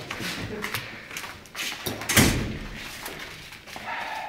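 A door closing, heard as a single solid thump with a sharp slam near the middle, among muffled room noise and scattered knocks.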